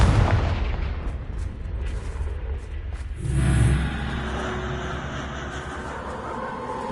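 Confringo blasting spell explosion in a Harry Potter video game, a loud rumbling boom that swells partway through and rolls on as a broad, noisy roar.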